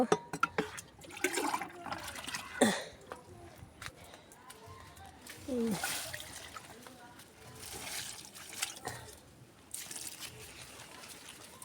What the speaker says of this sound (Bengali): এই যে আমি এখন লিকুইড তরু সার দিয়ে দিব